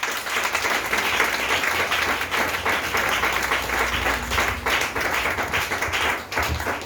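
A congregation at a Pentecost church service breaks into sustained applause, dense clapping filling the room close and loud for several seconds before tapering slightly.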